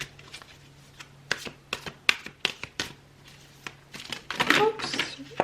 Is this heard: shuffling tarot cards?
yes